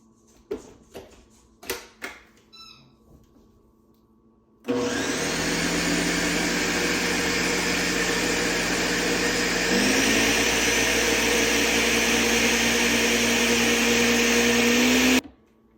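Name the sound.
blender running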